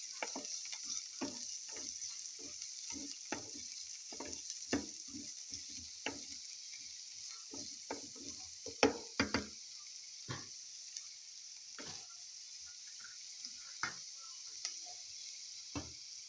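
Onions frying in about two tablespoons of oil for an eggplant and yogurt side dish, a quiet steady sizzle broken by frequent soft stirring taps and clicks, no talk.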